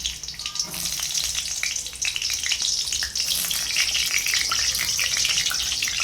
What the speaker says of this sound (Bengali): আলুগুলোকে আমি এখন লাল লাল করে ভেজে দেব।